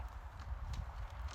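Horses walk nearby with a steady clip-clop of hooves, quiet and close, with soft scattered knocks and no talk.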